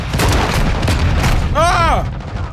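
A grenade launcher in Call of Duty Modern Warfare 2 Remastered, heard as loud booming shots over dense battle noise, followed by a brief whooshing sweep near the end.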